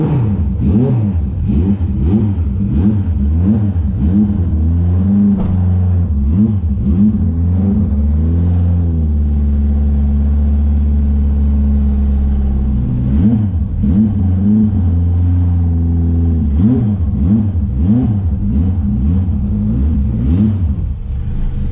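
A dune buggy race engine runs close and loud, climbing and falling in repeated rhythmic revs with a deep rumbling tone, holding steadier at idle midway before the throttle blips resume.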